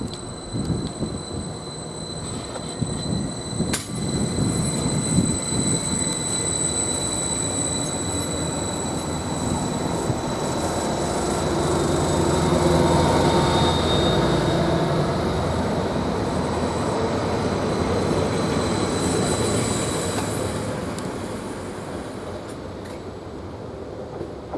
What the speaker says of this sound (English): Now this late running Greater Anglia train with the 1320 from Ipswich to Peterborough